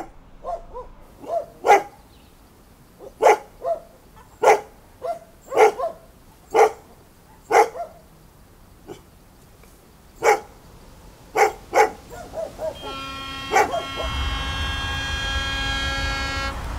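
A dog, just freed from its chain, barks loudly and repeatedly in irregular single and double barks. A sustained horn-like toot enters near the end.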